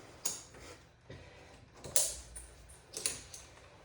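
A Voltra cable pulley on a home gym station is lowered and set back in place, giving a few quiet mechanical clunks and clicks close by.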